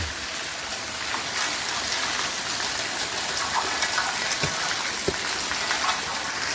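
Heavy rain pours down in a dense, steady hiss, with a few sharper drips and splashes standing out close by.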